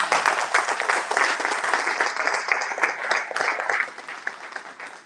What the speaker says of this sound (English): I think you should give yourselves a round of applause for being a great audience tonight.